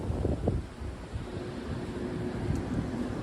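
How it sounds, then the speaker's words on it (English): Strong outdoor wind buffets a microphone on a night in Miami, Florida, a steady loud rumbling roar that never lets up. "It is crazy windy out tonight"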